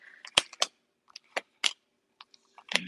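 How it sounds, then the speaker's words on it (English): Quick crisp papery riffling bursts of a deck of cards being shuffled, a short flurry then two more, close up against otherwise quiet surroundings. "I'm going to shuffle 2 times, 1 and 2."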